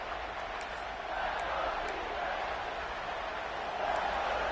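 Steady stadium crowd roar from a college football video game matchup of LSU against Texas, a continuous wash of cheering at moderate level during a goal-line stand, with no distinct voices over it.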